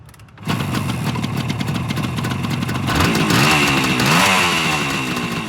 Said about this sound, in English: Lovely, sweet, smooth little two-stroke engine.